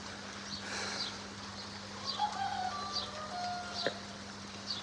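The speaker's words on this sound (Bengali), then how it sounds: "ডাকের শব্দ, মোরগ ডাকতেছে" A faint rooster crow rises from a neighbouring rooftop over steady low background hum, with a few scattered bird calls and no talking.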